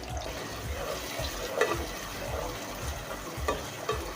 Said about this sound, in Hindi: हमारा ऑयल जो है वो गर्म हो चुका है। अब हम इसके अंदर प्याज को डालेंगे